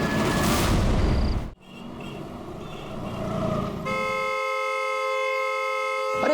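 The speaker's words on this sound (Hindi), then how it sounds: "नॉन स्टॉप हॉर्न बजा रहा है" A vehicle horn blares continuously, a steady loud multi-tone blast that sets in after a rush of engine and road noise cut off by a brief gap.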